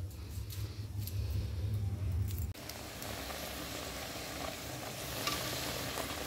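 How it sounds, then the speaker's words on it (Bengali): Cauliflower boils in a pot on a gas stove, a steady soft bubbling hiss heard close by. A low rumble runs under it for the first couple of seconds, then cuts off, and nobody talks. "আর এই দেখো কপিটা এখন সিদ্ধ চাপিয়ে দিয়েছি"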